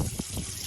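Water gushes from a garden hose on a cold, windy morning, a short continuous rushing spray heard up close.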